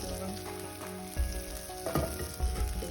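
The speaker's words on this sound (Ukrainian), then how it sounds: "топлюємо масло" Steady sizzling and crackling of butter melting in a hot frying pan, with a few soft scraping stirs, close and continuous, no voices.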